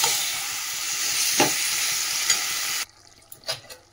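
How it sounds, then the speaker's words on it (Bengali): Meat stir-fried with onions fried until reddish-brown, sizzling loudly and steadily in a pan with scraping stirs, then the sizzle cuts off sharply near the end, leaving a few quieter clinks. "পেঁয়াজটা একটু লাল করে ভেজে নিয়েছি, কষাবো, খালি ঢাকা দেবো, চাপা দিয়ে দিয়ে কষাবো ভালো করে।"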